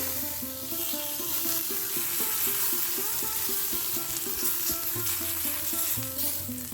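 Rice batter for chitoi pitha sizzles steadily in an oiled pan over a low flame, a continuous bright hiss of frying heard under a melodic background tune.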